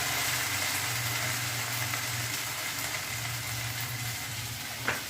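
Food for an evening meal with momos fries in a pan, giving a steady, even hiss at close range with a low hum beneath and one brief tap near the end, no voices.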